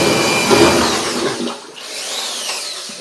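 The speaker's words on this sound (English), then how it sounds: "The way I mix glazes up is I have a electric drill plugged into" A loud electric drill mixing ceramic glaze whirs continuously, its pitch dipping and rising as it churns, close by with no voices.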